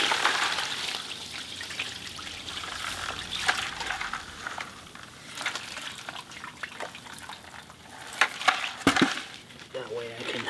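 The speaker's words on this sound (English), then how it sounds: "We're going to dump off some of this water so it's easy to move." Water poured and dumped off a pan of gravel during sapphire mining at Gem Mountain, Montana, with close splashing, trickling and sloshing, a few sharper pours and clatters of stones near the end.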